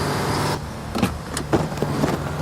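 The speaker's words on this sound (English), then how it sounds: "The car is speeding towards the truck." In a film chase scene, a car speeds toward a truck: a steady engine roar cuts off abruptly, then a few loud bumps and rattles follow, with no talking.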